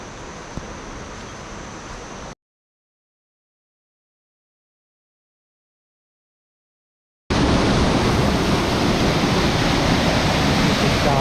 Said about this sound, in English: This is the start of the waterfalls here.